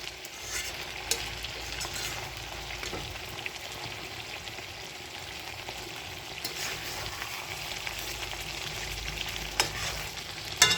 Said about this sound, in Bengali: মাংসটা কষানোটাই নেই, ওই যে ফাটছে আস্তে আস্তে, তোমরাও শুনতে পাচ্ছ